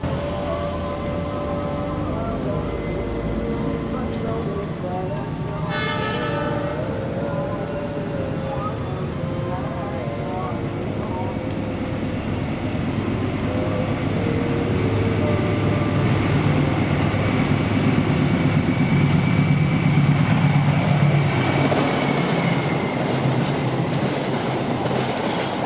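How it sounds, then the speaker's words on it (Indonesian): Two passenger trains, the Bima and the Argo Cirebon, pass each other at speed through Klari station, a continuous heavy rumble with clattering wheels on rail joints that swells louder in the second half. "terjadilah momen papasan antara kereta api Bima dengan KA25 kereta api Argo Cirebon karena dua-duanya sama-sama kecepatan saat melintas stasiun Kelari"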